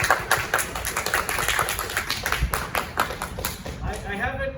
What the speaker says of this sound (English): So a big round of applause to Nathan.